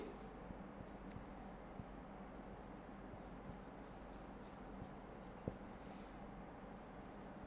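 Writing on a board during a maths lecture, faint soft scratching strokes in short bursts with one sharp tap, quiet and close, with no speech.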